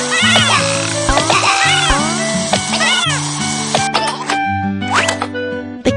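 A cartoon kitten in a children's pet-care game gives several high, bright meows over cheerful game music and chiming effects, loud and close throughout.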